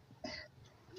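A child gives a single short cough, a brief rough burst, faint and close in a quiet room.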